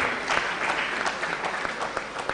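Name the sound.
audience applause for sponsors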